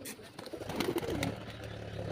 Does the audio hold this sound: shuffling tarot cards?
no